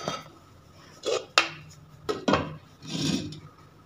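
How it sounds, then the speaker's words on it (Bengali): A knife scrapes around the sides of a cooled strawberry cake in its pan, producing a few short metallic scrapes and taps close up, with soft pauses in between. "একটা চাকু দিয়ে আমি একটু সাইডগুলো ছাড়িয়ে নিচ্ছি"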